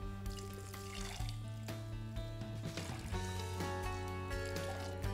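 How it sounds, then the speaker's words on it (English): Water poured as simulated rain over a small rain garden model with soil and plants, a continuous splashing trickle with shifting tones, close and moderately quiet, with no talking. "It's time to rain!"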